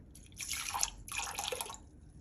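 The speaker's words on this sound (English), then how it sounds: "I'm gonna add 100 grams of room temperature water." Room temperature water pours into a container of sourdough starter in two short splashing bursts, close and clear, with no talk.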